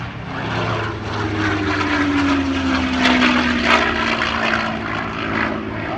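A formation of propeller warbirds at the Shellharbour airshow, including the P-51 Mustang Dove of Peace, passes overhead in a loud continuous droning roar, with a slowly falling engine tone as they fly by.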